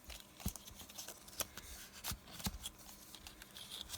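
Paper game pieces, cards and score pads being torn by hand in a few short, sharp rips scattered over a quiet background, close and moderately loud, with no voices.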